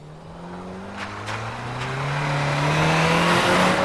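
A 2025 Toyota Tacoma Trailhunter hybrid pulls away and accelerates, its engine note rising steadily and growing louder from inside the cabin, with no talk over it.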